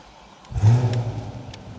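Chevrolet Corvette Stingray C8 starting up: a brief cranking whir followed by a low, booming engine catch and rev that settles into a rumbling idle, fairly close.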